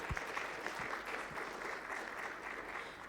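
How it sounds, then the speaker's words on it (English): A conference audience gives presenters a fairly faint round of applause after a session on rebuild options, with many hands clapping evenly and steadily throughout. "I think that deserves another round of applause right there."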